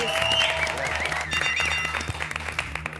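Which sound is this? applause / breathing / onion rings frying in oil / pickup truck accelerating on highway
applause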